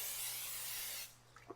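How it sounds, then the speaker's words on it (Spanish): Aerosol cooking spray hisses onto a silicone ring mould for mango gelatin, one steady close spray lasting about a second, then a few faint handling taps. "les aconsejo que pongan un poquito de spray en aerosol"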